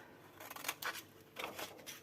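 Scissors snip through decorative paper for a basket craft, several quick close crisp cuts in an uneven rhythm, with no voices.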